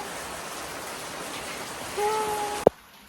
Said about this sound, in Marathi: मस्त पाऊस येत आहे